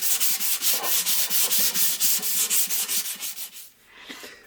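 Steady rhythmic rasping of sandpaper rubbed back and forth on bookcase wood, about a dozen even strokes, close and loud, then trailing off.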